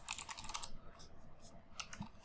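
Fingers tap out a search on a computer keyboard, a quick, quiet run of light key clicks that pauses briefly before a final few strokes.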